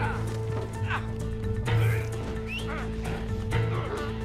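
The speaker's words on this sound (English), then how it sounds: "I'm gonna call the horse." A horse summoned in Red Dead arrives with a neigh and clip-clopping hooves, heard under steady talking from several players.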